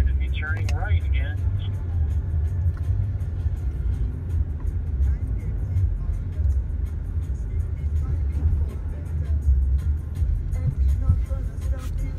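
A Cadillac rolls out of a parking lot toward a stop sign, its low engine and road rumble steady and close for about twelve seconds, with a person talking over it.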